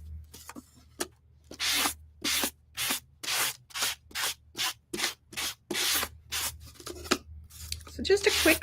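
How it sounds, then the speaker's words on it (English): Rhythmic scratchy strokes of sandpaper rubbed by hand back and forth over wood, about a dozen even passes, close and fairly loud with brief pauses between. "So just a quick sanding."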